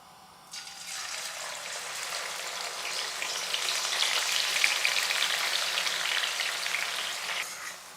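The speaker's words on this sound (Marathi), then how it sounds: "आणि हा कांदा आपल्याला मध्यम ते फुलाच्यावर छान तळून घ्यायचा आहे." Squeezed, salted onion dropped into hot oil in a wok, bursting into a loud, dense, crackling deep-fry sizzle after a quiet start that holds steady to the end.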